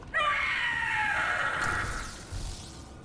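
A monster called a Howler screams in a Dragon Age: The Veilguard game battle, one long loud shrieking cry that slowly fades over a few seconds, with no talk.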